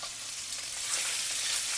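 Skinless chicken pieces with herbs sizzle in garlic-flavoured oil in a pan, a steady, close, bright hiss of frying with no talk.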